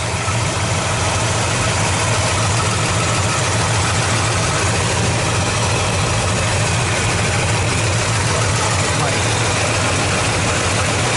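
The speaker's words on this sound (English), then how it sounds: "Here, a little bit of lifter noise." A 1986 Chevy K10 engine fitted with 601 heads idles loud and close, a constant dense rumble with faint ticking lifter noise mixed into the steady drone.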